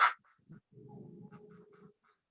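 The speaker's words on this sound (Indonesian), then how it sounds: "Ini dia bebeknya nih." Several ducks quack in a short, busy run of low nasal calls, fairly close, after a brief sharp sound at the start, with no talking over them.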